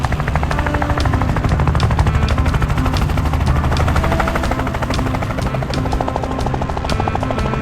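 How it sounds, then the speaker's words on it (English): A cartoon helicopter arrives, its rotor chopping in a loud, fast, continuous beat with a buzzing engine drone, close and unbroken throughout. "The helicopter quickly arrived and set the greenhouse perfectly into its place."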